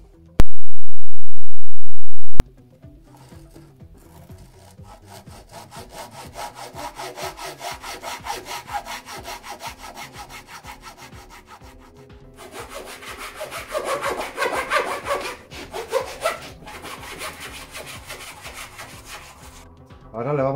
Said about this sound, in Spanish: Voy a por la segueta y lo corto.